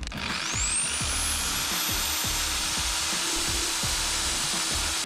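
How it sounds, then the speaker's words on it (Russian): An electric drill powered by a Romoss X1000 portable power station spins up with a rising whine and runs at a steady, loud high pitch, with a continuous motor hum and irregular low knocks underneath. "Теперь попробуем дрель."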